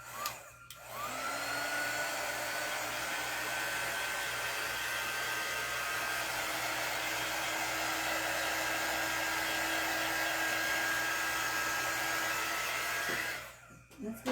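A hair dryer blows steadily over paste spread on a wooden pumpkin, a loud continuous whoosh with a motor whine that starts after a second, holds for about twelve seconds, then cuts off.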